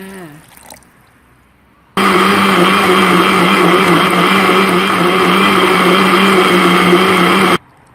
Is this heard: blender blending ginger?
yes